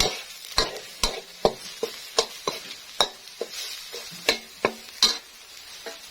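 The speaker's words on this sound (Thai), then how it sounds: "เราก็จะยีไข่นะคะ เพื่อที่จะให้ไข่แดงแตกเล็กน้อยนะคะ" A spatula stirs and breaks eggs frying in a pan over medium heat for stir-fried pickled mustard greens, giving a steady series of sharp scraping taps, about two per second, over a soft continuous sizzle.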